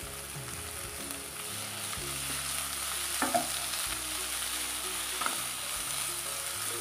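Chopped tomato pieces and coriander frying and being stirred in a pan for ivy gourd chutney, a steady close sizzle with occasional scraping stirs and clinks throughout.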